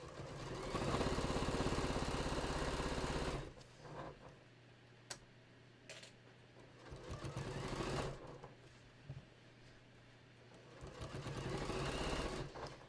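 A home sewing machine stitches a beach tote with yellow thread in the bobbin and pink in the needle, whirring in three close bursts separated by quieter pauses with faint clicks.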